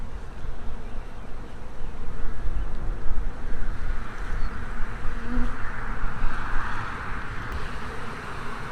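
Honey bees buzzing loudly and continuously around an open hive, a dense close swarm hum that swells and holds steady throughout.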